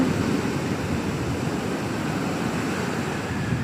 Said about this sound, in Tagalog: dapat marunong kang lumangoy pag ganyan ka lakas yung alon